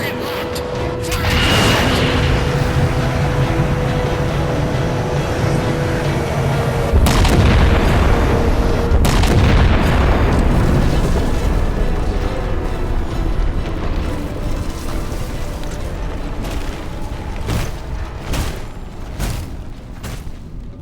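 Heavy weapon fire and explosions in the Halo 4 video game, a loud sustained roar of booms and rumbling impacts that swells, stays dense for many seconds, then slowly tails off, with voices talking underneath.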